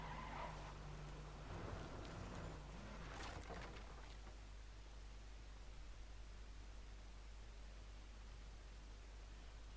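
Steady broadband engine and road rumble of a car driving in a video game, continuous and fairly loud, with a few brief tonal chirps near the start and no talking.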